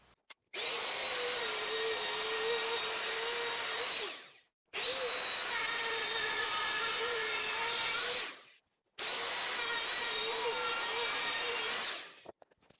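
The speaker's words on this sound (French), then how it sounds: "la fraise de 5 mm, et je vais maintenant découper donc la partie intérieure." A wood router fitted with a 5 mm bit cuts the inner part of a piece along a copying template. It runs in three long, loud, steady whining passes, with short silent breaks between them.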